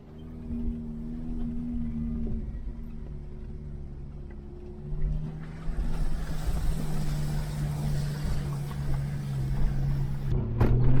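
Off-road vehicle engine in first gear climbing a night track near Macetown, a steady low drone that rises in pitch and grows louder as it pulls uphill.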